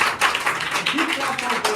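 An audience claps after a public speaking training speech, a short burst of scattered hand claps, fairly close and steady, with some voices underneath.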